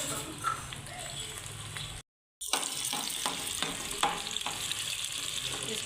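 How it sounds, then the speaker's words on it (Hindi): Onions drop into hot ghee in a pan and sizzle steadily, with scraping stir strokes and a brief silent gap partway through. "ये तकरीबन 5 से 6 चम्मच मैंने घी डाला है। अब ये प्याज डाल देंगे इसके अंदर।"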